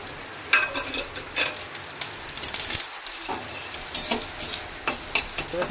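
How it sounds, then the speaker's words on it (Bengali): Onions frying in a pan with slit green chilies and chopped garlic give a continuous crackling sizzle, punctuated by sharp scraping stirs and brief bursts of louder spitting, with no one talking. "পেঁয়াজটা ভাজা ভাজা হয়ে আসলে এর মধ্যে চেরা কাঁচা লঙ্কা আর রসুন কুচিটাও দিয়ে দেবো"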